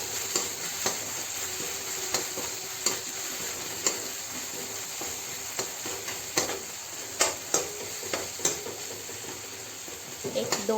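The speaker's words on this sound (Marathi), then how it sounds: "ह्यात लसूण आणि मिरचीचा ठेचा तेलात घालूया" Crushed garlic and green chili frying in hot oil beside onions in a pan, a steady sizzle punctuated by repeated spatula taps and scrapes, close and fairly loud, with no talking.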